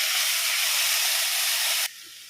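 Chopped tomatoes hit hot oil with softened onions for a South Indian kulambu, giving a loud, dense, steady sizzling hiss that abruptly drops to a quieter simmer near the end.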